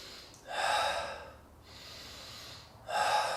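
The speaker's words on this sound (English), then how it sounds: "This is real intentional breathing." Deep, intentional breaths in a Wim Hof-style breathwork exercise: a strong rushing inhale, a softer drawn-out exhale, then another forceful inhale, close and breathy with no talking.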